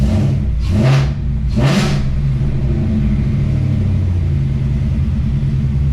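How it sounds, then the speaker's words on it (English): A 2019 Ford Mustang GT V8 with a cold air intake kit is revved twice in quick succession, each blip rising to a loud roar and falling back to a steady, rumbling idle at close range. "Let me rev it up, make sure everything's good."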